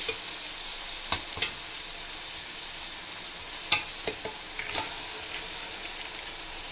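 Okra is added to tomatoes frying in oil in a cooking pan, giving a steady close sizzle with a few sharp stirring clicks and scrapes, and no talk.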